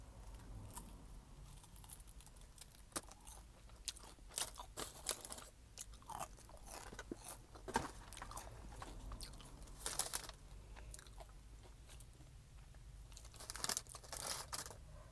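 Close, crisp crunching and chewing of Jack in the Box popcorn chicken and seasoned fries, with irregular bites and occasional crinkling of packaging, recorded quietly with no talking.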